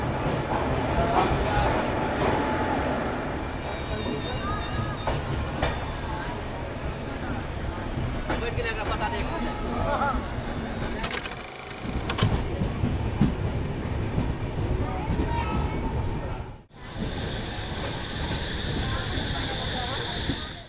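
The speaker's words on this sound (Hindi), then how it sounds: "फाइनली अपनी ट्रेन लोको रिवर्स के बाद डिपार्ट कर रही है अपनी समस्तीपुर जंक्शन से" The Antyodaya Express pulls out of Samastipur Junction after a loco reversal, heard from on board. A steady rumble of wheels on rail runs throughout with clicking over joints, and faint voices sit under the noise.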